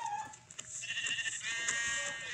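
Minecraft sheep bleat in a steady, wavering cry that rises and holds over soft background game sounds.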